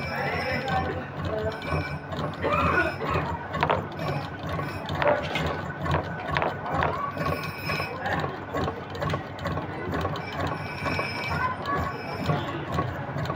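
An umbrella sewing machine runs and stitches with a rapid, rhythmic mechanical clatter of ratcheting gears, close and steady, while someone talks over it.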